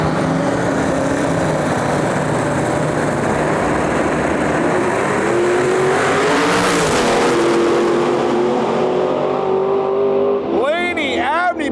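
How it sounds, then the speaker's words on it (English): Ford Mustang LS twin turbo drag car launching down a drag strip, a loud, sustained engine roar that climbs in pitch as it pulls away, with a sharp burst midway and a faint voice near the end. "in our lane, we got Laney Abney driving the Ford Mustang LS twin turbo car"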